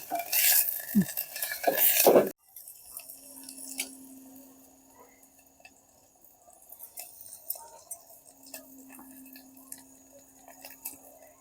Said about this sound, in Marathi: हे आपलं मातीचं भांड आहे त्यामुळे याला हलक्या हाताने हलवायचं